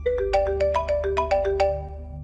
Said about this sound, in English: I woke up again to the sound of my phone's alarm clock blasting.